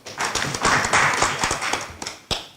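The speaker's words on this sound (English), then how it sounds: "Can you clap for this group?" A small group claps for a presenting team at a review meeting, a few scattered, uneven hand claps rising briefly and then thinning to isolated claps.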